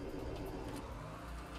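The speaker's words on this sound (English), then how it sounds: "So let's start the engine from down here actually." A ship's engine in the Stormworks video game, started from the engine room of the vessel MV Griteand Flow, rumbles in a steady low drone with a faint whir, continuous and fairly even.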